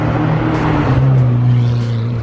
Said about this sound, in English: I did not remember Zane's car being this loud.